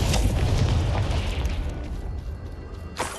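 A Confringo blast spell in the video game Hogwarts Legacy lets off a deep, rumbling explosion that fills the first seconds and slowly decays, and a second sharp burst follows near the end.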